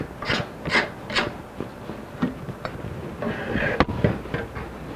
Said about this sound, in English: Just scrape that glue squeeze out off of there for a reasonably non-bumpy base